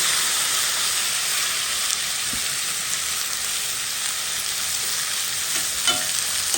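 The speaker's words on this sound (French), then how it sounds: "Mélange mon tomate avec le thym." Tomato and thyme sizzle steadily in a hot pan while being stirred, part of an eggplant dish; a constant close frying hiss fills the whole stretch, with a few soft scrapes of the stirring utensil.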